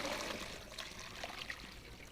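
Cooked lasagna noodles being drained: a faint, steady trickle and splash of water pouring off, soft and continuous with no talk.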